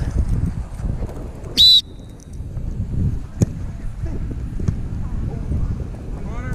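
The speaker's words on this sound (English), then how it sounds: "Okay, on the whistle." A referee's whistle at a college soccer game gives one short, loud, shrill blast amid outdoor wind noise and a few thumps.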